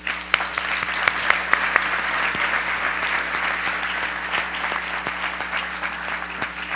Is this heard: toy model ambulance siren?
no